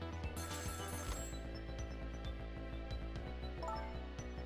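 A telephone rings inside the video game Ghost Trick, a repeated bell-like trill sounding over a steady bed of game music with no talking.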